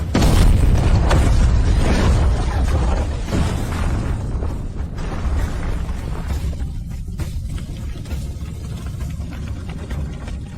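A bomb explosion roars as a loud, sustained rumbling blast that fills the scene, then slowly settles into a fading crackle and debris rumble.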